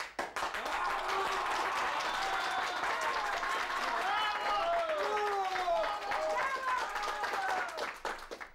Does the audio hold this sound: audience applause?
yes